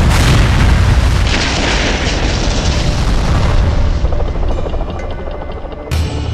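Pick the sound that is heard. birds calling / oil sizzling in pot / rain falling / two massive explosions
two massive explosions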